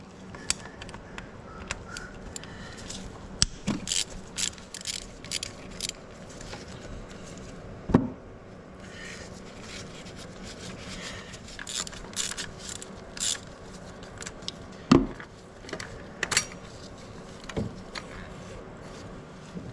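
Allen key loosening the screws of a vacuum pump on a Peugeot 307cc 2.0 HDI engine, producing sparse metallic clicks and ratcheting ticks at irregular intervals over quiet background.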